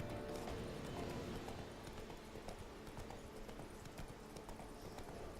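Roach the horse trotting in The Witcher 3, steady hoof clip-clops in a brisk, even rhythm over a continuous game ambience, close and clear throughout.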